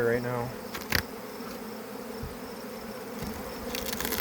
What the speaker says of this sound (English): I put a puff of smoke in there and out came the bees. So they're all over in the air right now.